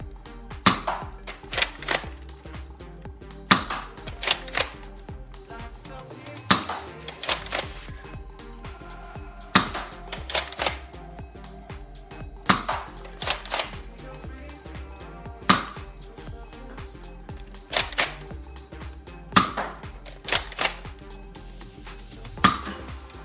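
Adventure Force Max Morpher toy blaster firing foam darts, sharp repeated pops in evenly spaced pairs roughly every three seconds, close and loud over a steady low background hum.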